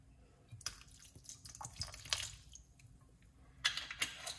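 Vinegar is poured onto pineapple in a kitchen, a faint close trickle with soft wet drips and splashes scattered over a few seconds, no talking.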